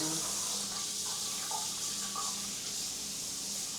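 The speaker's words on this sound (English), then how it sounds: "I'll rinse that one off." Kitchen tap water runs steadily while organic cucumbers are rinsed at the sink, a continuous soft hiss and splash that carries on throughout, with faint background voices.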